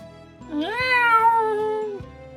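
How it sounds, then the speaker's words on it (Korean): A startled cat in a horse stable gives one loud, drawn-out yowl that rises in pitch, holds, then falls away, close and alone with no voices. "고양이가 말을 보고 화들짝 놀라 발톱을 세우며 까르릉 거렸어요."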